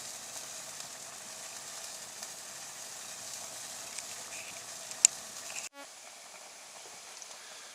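Alcohol boils off in a pot of cranberry sauce on a gas hob, giving a steady, soft sizzling hiss throughout, with a brief knock near the end and no talk.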